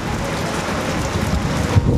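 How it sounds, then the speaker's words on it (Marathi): Heavy unseasonal rain with stormy wind sweeps over farmland, a dense, loud, continuous roar of rainfall and gusting wind buffeting the microphone without a break. "आज सकाळीही पावसानं वादळी वाऱ्यासह जोरदार आगमन केलं."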